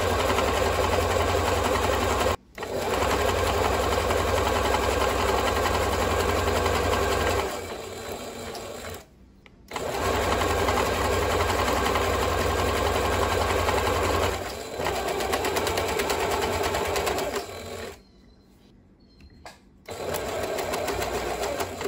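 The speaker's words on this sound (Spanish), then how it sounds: "Ya seleccioné la puntada zigzag en la máquina. Y vamos a coser el entre dos a la otra." Domestic sewing machine running a zigzag stitch along a trouser leg, a loud steady mechanical whirr in long bursts with brief pauses between runs.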